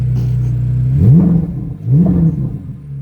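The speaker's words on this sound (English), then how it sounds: "I'm gonna show you how much different it sounds. So this is how it sounds in sport mode." A 2023 Corvette Z06 in sport mode idles with a deep, loud, close rumble, then gives two short, quick revs that swell and drop back to idle.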